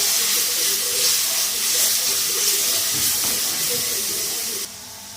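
Mustard seeds frying in hot sesame oil in a heated pan give a steady, loud, close sizzling hiss with faint popping, which cuts out abruptly near the end.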